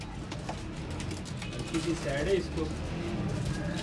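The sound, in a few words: Teddy Rampuri pigeons cooing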